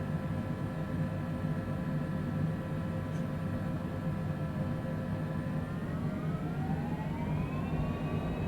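Jet engines on the Longitude business jet in the MSFS 2020 flight simulator, set for a stormy takeoff from Boston, drone steadily, then whine upward in rising pitch as they spool toward takeoff power, fairly faint and continuous.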